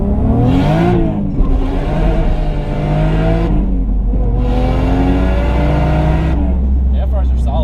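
Toyota JZX100 Chaser turbo engine at max boost, heard from inside the car as it pulls hard through first, second and third gears: a loud rising roar climbs, drops at each shift and climbs again, with someone talking over it.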